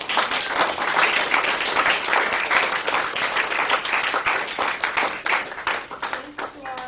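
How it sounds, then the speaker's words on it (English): Audience applause at the close of a violin masterclass for gifted young musicians, a steady wash of many hands clapping that thins toward the end, with a voice speaking over it. "one more round of applause"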